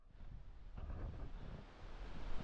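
Wind gusting across the microphone on a mountain hike toward a waterfall near Mont Valier in the Pyrenees, a rough, fluctuating rumble that swells and eases, fairly faint and continuous.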